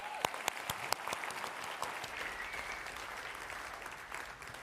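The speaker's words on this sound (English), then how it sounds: "Give Pam a round of applause" A seminar audience applauds Pam for a speaker's event, opening with a few loud, distinct claps that swell into steady, dense clapping from a large room and hold for several seconds.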